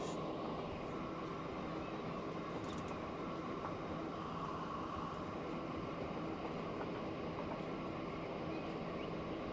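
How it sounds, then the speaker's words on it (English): A train rolls along in the Transport Fever 2 simulation game, giving a steady, even rumble with a faint hum that continues for the whole stretch, no speech over it. "I'm enjoying riding this train along."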